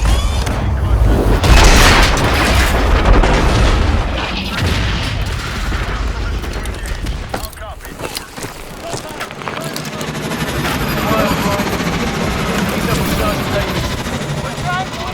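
Roaring aircraft reverse thrust during a hot, rough touchdown in Call of Duty Advanced Warfare, a loud broadband rumble strongest at the start and fading to a steadier drone, with booming impacts and voices over it.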